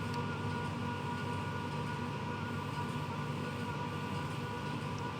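Steady, continuous rumble of a goods train rolling downhill in the Train Sim World 6 video game on a run to Preston, with dense wheel and track noise and an even, unbroken drone throughout.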